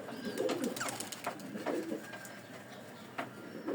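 An Indian lal dum pigeon cooing close by in repeated soft, throaty coos spread across the clip, with no talk.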